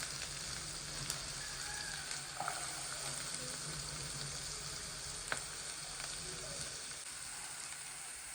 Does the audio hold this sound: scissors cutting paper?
no